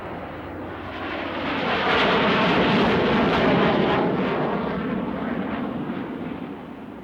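A SEPECAT Jaguar jet passes at very low speed during a 1990 Battle of Britain anniversary air show, its engine roar broad and steady, swelling to a peak midway and easing off slowly as it moves on.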